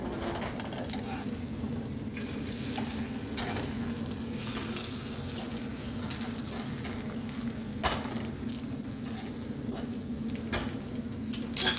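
Bread pieces dipped in egg fry in a pan with a steady, close sizzle, light crackling and occasional scraping taps throughout.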